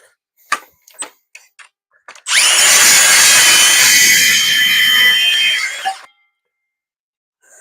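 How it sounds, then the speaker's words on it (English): An 18-volt cordless saw rips through a board of hard maple, a loud sustained whining cut of about three and a half seconds that begins abruptly and stops cleanly, with a few light knocks and handling sounds before it and no talking. "I love this little cordless saw. I'm ripping through hard maple."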